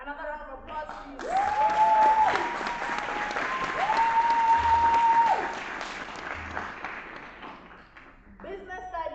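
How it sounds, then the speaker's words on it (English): A crowd applauds steadily at a school award ceremony, the clapping swelling and easing over several seconds, with a voice speaking over it and brief electronic tones sounding twice. "Another round of applause, please"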